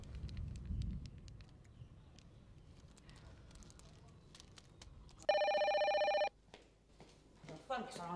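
An indoor scene from an Indonesian TV drama where a telephone rings in one loud electronic burst of about a second, standing out from quiet rustling and background noise, followed by faint clicks and movement.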